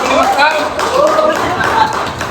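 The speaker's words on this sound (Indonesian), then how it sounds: "tepuk tangan dong 45 tahun" Hand clapping rises during a relaxed talk-show chat with a group of sisters, the dense patter mixed with overlapping voices and light laughter.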